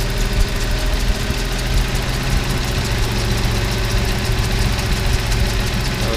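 A Toyota 3VZE V6 idles with a high idle-speed fault, giving a loud, close, continuous engine drone with a slight knocking texture, steady throughout and with no voices.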